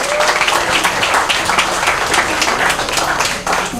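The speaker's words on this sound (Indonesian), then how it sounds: "Tepuk tangan lagi dong teman-teman." Loud, steady audience applause at an evening discussion and screening event, many hands clapping densely and continuously throughout.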